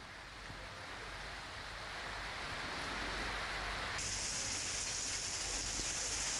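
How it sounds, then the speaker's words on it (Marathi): Heavy monsoon rain pours in Khed, Ratnagiri district, a steady dense hiss that grows a little louder and brighter partway through, with no voices. "रत्नागिरी जिल्ह्याच्या काही भागांमध्ये जबरदस्त पाऊस झाला."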